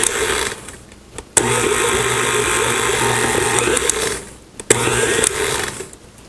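A stand mixer with a paddle attachment churns pie crust dough after cold water is added, its motor whirring loud and steady in two bursts, spinning up abruptly, running several seconds, stopping, then briefly restarting.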